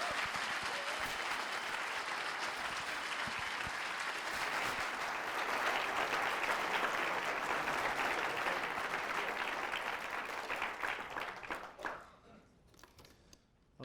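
Warm audience applause welcoming lecturer John Lennox to an evening lecture, a steady dense clapping from a large crowd lasting many seconds before tapering off near the end.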